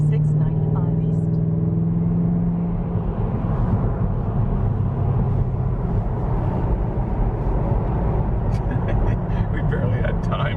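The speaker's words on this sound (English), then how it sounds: "We barely had time to hear the motor." A car engine drones continuously while cruising on a highway, with steady road and wind roar throughout and a brief tonal hum early on.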